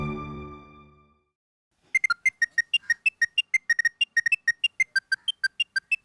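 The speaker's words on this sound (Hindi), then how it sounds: "अरे हाकिम का फोन है।" A phone rings with an incoming call: a repeating electronic ringtone of quick tonal beeps in a steady pattern, clear and alone after a short stretch of fading music.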